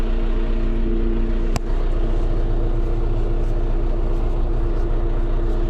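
A John Deere 5105 M tractor's diesel engine runs steadily at a constant idle, a loud, close, even rumble with a single sharp click partway through and no speech.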